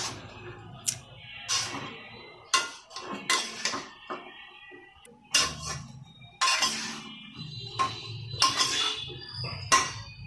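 Vegetables with spices are stirred in a cooking pot: a spoon scrapes and clinks against the pot in irregular bursts, close and fairly quiet, with soft sizzling and a brief cough between strokes.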